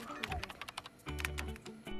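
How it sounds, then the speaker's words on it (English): Someone types on a computer keyboard in a quiet film scene, quick irregular key taps in short bursts, close and fairly faint, with low background sound between strokes. "a scene sitting and typing at a computer"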